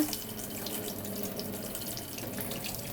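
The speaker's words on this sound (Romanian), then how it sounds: "Ca să-l oprim, l-am luat și l-am pus sub apă rece." Cold tap water runs steadily from a faucet over a moka pot held under the stream, a continuous close splashing and hiss that stays even throughout with no voices.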